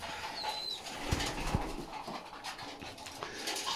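Pigeons gathered for evening feeding, soft cooing and low throaty sounds with a couple of brief thumps or wing flutters, close and quiet over a faint background hum.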